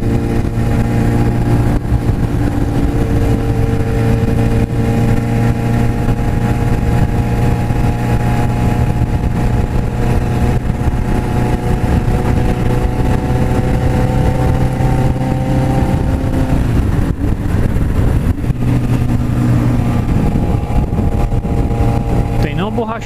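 A Suzuki GSX750F motorcycle is ridden hard on a road, its engine droning loud and close. The pitch dips briefly about two-thirds of the way through, then climbs back to a steady roar.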